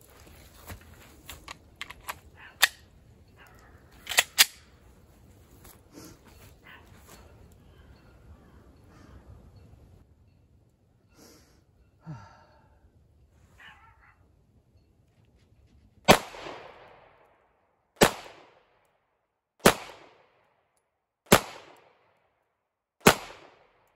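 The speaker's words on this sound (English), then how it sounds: "All right, I'm gonna shoot 5 on paper." A Walther Creed pistol fires five loud, sharp gunshots at a paper target, evenly spaced about a second apart, after a stretch of quieter clicks and handling noise.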